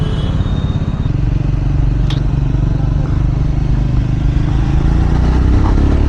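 Triumph Scrambler 400 X motorcycle engine running steadily at high revs, a loud continuous mid-pitched drone close by with a brief clatter, no speech.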